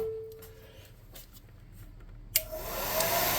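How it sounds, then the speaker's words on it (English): A hot air blower drying painted miniature bases switches on with a sudden loud whoosh, then roars steadily close by after a quieter stretch of faint background hum. "Let's get some hot air on these bases and start to dry those up"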